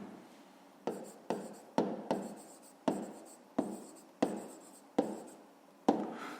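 A pen scratches across paper in a fifth-grade maths exercise on the area of rooms, with repeated short strokes starting every half second or so, each fading quickly, close and fairly quiet with no talking.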